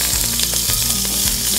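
Brussels sprouts fry in hot bacon grease on an outdoor fire disc, giving a steady, loud sizzle with scraping stir strokes and low rumbling thuds throughout.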